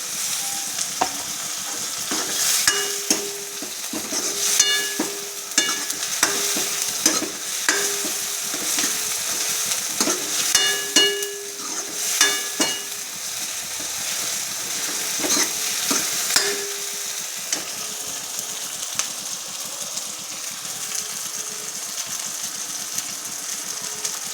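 Tomatoes go into a hot frying pan for a green moong sabji, giving a steady sizzle with repeated stirring clinks and scrapes of the spatula throughout, close up and with no talking.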